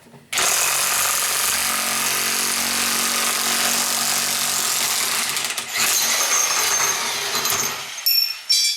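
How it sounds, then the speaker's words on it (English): A Kobalt 1/2-inch corded 8.0 amp electric impact wrench breaking a trailer ball loose: a loud, sustained buzzing hammer that starts abruptly, runs for several seconds with a brief dip, then stops with metallic clatter. "the Kobalt electric impact wrench really will speed things up"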